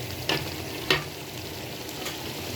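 Large potatoes cut into small pieces dropping into a pan of hot ghee: a steady, close frying hiss with two brief bumps as the pieces land and shift.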